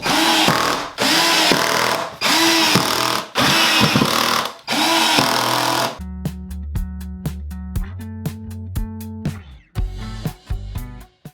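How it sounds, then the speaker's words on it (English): A power drill drives screws back into a bathroom subfloor during a remodel, with five loud, separate whirring bursts, then shorter stop-start pulses as each screw seats. No one speaks. "As I was screwing these back into the subfloors, I noticed that a lot of mortar was coming up around them"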